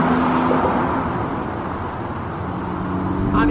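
Steady interior road rumble and engine hum from inside a moving car driving away from a street in Santa Monica, continuous and fairly loud with no talking.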